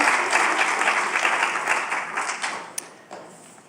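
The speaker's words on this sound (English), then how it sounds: "Let's have a round of applause for that." An audience at a convocation claps steadily, a thick wash of applause that gradually tapers off toward the end, with one sharp tap standing out.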